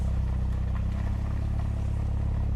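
Volkswagen Golf mk8 GTI engine and exhaust heard from inside while driving at night, a steady low droning rumble with a faint rhythmic pulse, no voices, cruising evenly without strong revving.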